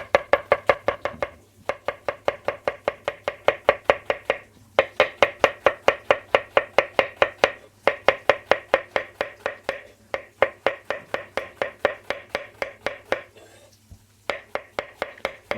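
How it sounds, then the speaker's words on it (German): A kitchen knife chops pointed cabbage on a cutting board in fast, even, close strokes, running in steady bursts separated by short pauses. "können wir ja hergehen und schon unser Spitzkraut schneiden"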